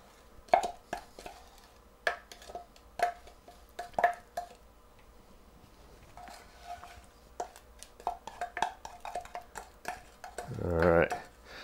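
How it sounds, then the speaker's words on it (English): A spoon scoops chocolate brownie mixture and knocks it into a cake pan, making a series of sharp metallic taps and clinks at irregular intervals, close and fairly quiet. A louder scraping rush comes near the end. "So, let's get this mixture in there. All you do is spoon it in."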